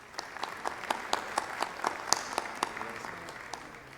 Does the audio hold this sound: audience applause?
yes